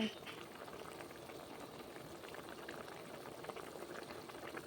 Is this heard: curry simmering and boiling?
yes